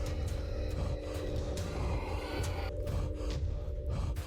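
A character in the Deep Fog demo game breathes heavily while running, with loud, rapid, repeated gasps and panting close up over a continuous low rumbling background.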